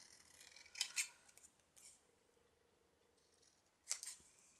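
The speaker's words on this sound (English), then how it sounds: "oh, Zoe can't cut in a straight line" Scissors snipping paper for a collage, a few quiet, crisp cuts in two small clusters separated by a pause, close and alone in a hushed room.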